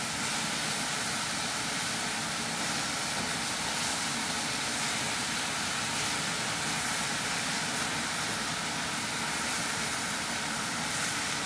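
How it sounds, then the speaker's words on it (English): Beef and broccoli with oyster sauce sizzling hard in a very hot wok, a steady, loud, dense hiss that holds without a break and with no one talking. "Again, we're maintaining that very high sizzle."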